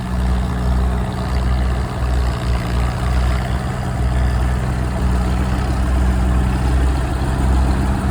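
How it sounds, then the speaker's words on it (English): An old Caterpillar diesel engine runs steadily nearby, a deep low rumble with a constant throb that holds at the same loud level throughout and has no voices over it. "This guy's got this one running. It's a Caterpillar diesel."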